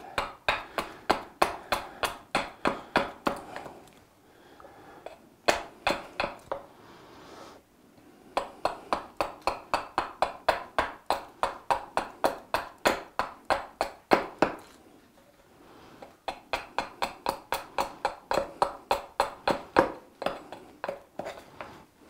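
A hatchet carving a wooden spoon outdoors, with rapid, regular, crisp chopping strikes in bursts of many blows separated by short pauses, close and clear with no talk.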